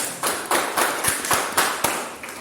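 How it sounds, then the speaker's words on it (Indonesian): Students in a vocational high school classroom clap in a few loud, rhythmic bursts, sharp claps grouped in regular pulses, close by and with no talk over them. "Tepuk tangan sekali lagi"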